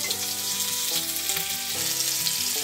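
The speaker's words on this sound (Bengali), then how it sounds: "এবারে লবণ আর হলুদ দিয়ে পরিমাণ মতন জল দিয়ে দেবো, যাতে আলুগুলো ভালোভাবে সেদ্ধ হয়ে যায়।" Fried potatoes sizzle loudly in a pan with salt, turmeric and water going in, a dense continuous hiss and crackle under a soft musical background, with no talking.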